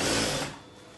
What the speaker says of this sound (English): So I'm just going to sew both sides together